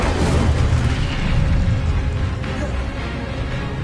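Incendio fire spell cast in Hogwarts Legacy: a loud, dense roar of flame with a rumbling low end that bursts at the start and burns steadily for several seconds before easing slightly.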